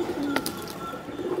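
Racing pigeons coo softly nearby in a loft, low murmuring calls repeating over a steady background hum, with a brief flutter of wings, no voices.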